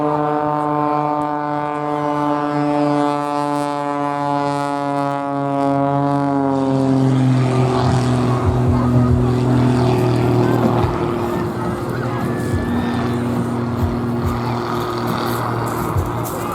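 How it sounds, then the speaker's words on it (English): A Pitts aerobatic display biplane flying at an airshow, a loud droning engine whose pitch sweeps down as it passes, then a rougher wind-swept roar, all under a commentator's voice. "It's built for display work. Goes back to a design back in the mid-1940s when a really inventive guy called Curtis Pitts put this design together"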